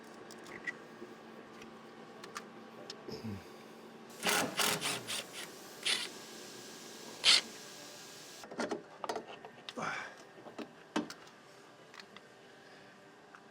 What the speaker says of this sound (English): Just got a few more 10 millimeter bolts before I can yank this guy out